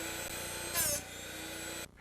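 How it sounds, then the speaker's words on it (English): A Drill Doctor bit sharpener grinding a drill bit gives a continuous close whirring grind with a brief higher scraping flare partway through, then cuts off near the end. "Listen carefully to the sound your drill doctor makes."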